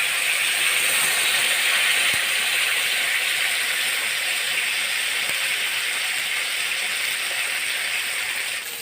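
Mangalore-style fish masala fry sizzling in a pan, a steady loud hiss of hot oil that runs without a break, close up with no voices.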